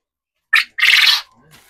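Pet birds kept upstairs give two quick bright chirps, one short and one longer, close and loud, followed by a faint trailing call in an otherwise quiet room.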